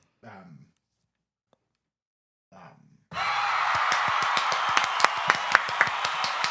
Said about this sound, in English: Will you applaud for my bravery, please?